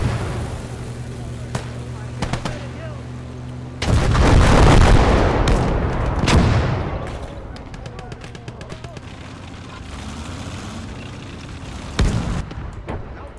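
Bombs and explosions in the war strategy game Kampfgruppe: a heavy, roaring blast swells and fades over several seconds amid scattered sharp gunfire cracks, with a voice talking over parts of it.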